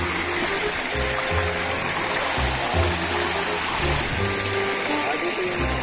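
Steady rushing of a shallow, low river flowing fills the clip, with low intermittent hums and knocks beneath the continuous wash.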